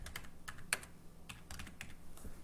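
Close, quiet typing on a computer keyboard: a run of light, uneven key clicks with one sharper keystroke, steady through a couple of seconds with no talk.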